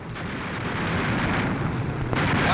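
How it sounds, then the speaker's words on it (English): A German rocket fighter blowing apart in Second World War air combat over Emden: a dense, roaring blast that sustains throughout, with a sharper burst near the end. "Watch this explosion. That was a rocketeer."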